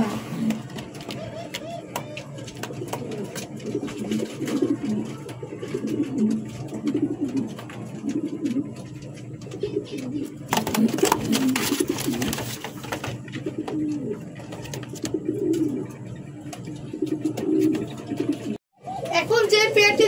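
King pigeons in a loft coo steadily and close by, layered soft calls continuing throughout with a brief dropout near the end, while faint voices murmur in the background.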